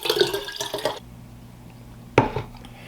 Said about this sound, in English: I pour my damn drink.